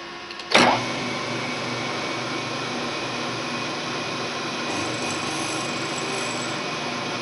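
Sherline mill touching off a workpiece face and plunging down to cut while making horizontal clamps: a sharp brief contact click, then a steady, continuous mechanical whir and hum from the small machine, fairly close and alone.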